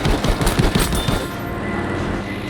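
Four 20mm cannons of an F4U-1A Corsair strafing in Battlefield V, a loud rapid burst of heavy cannon fire over roaring wind and engine noise, then the firing stops while the drone continues.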